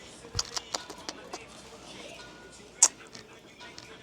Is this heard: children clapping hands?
no